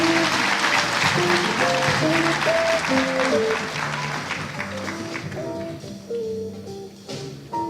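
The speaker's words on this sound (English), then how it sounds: "Ladies and gentlemen, please give them a round of applause." An audience at an honoree recognition ceremony applauds steadily throughout, the dense clapping blended with sustained music notes playing underneath.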